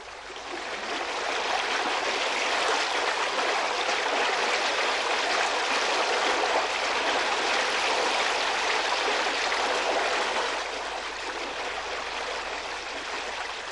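Water rushes steadily along a falaj irrigation channel in Ibra, Oman, a dense, even and continuous flowing hiss heard close and alone, easing slightly toward the end.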